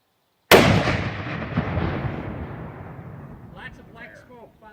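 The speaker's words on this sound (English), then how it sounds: "the explosion will crack the bottle, it'll send the gas in the air, and then the flame should ignite" A detonating cord charge in IED training cracks a gas bottle and ignites the gas into fire: one sudden, very loud blast, then a long roaring rumble that slowly fades, with voices near the end.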